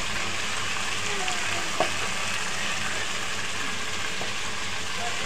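Food with turmeric sautéing in a pan, giving a continuous even sizzle with a single faint clink of a spoon partway through, no voices.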